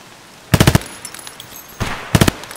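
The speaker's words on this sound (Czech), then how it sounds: "On po nás střílí, ty vole." Two short bursts of rapid automatic gunfire in the video game Escape from Tarkov on the Customs map, each a tight string of four or five loud cracks, separated by a quieter gap with faint game sounds.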